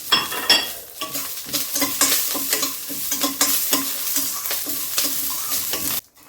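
Peanuts frying in hot oil in a pan and being stirred, with a loud, close sizzle and repeated scraping strokes that end abruptly near the finish.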